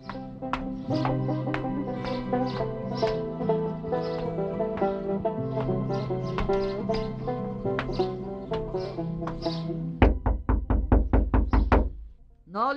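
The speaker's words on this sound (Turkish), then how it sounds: "Özhan Bey açsana kapıyı." A door is knocked on in a home: a quick series of sharp, loud raps near the end, right after a stretch of music.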